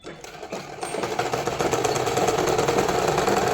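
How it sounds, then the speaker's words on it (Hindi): A sewing machine stitches the pocket of a frock suit, starting with a few slow, separate clicks and then speeding up into a close, steady, rapid mechanical chatter that lasts to the end. "उसके बाद यहाँ पे स्टिचिंग स्टार्ट करें।"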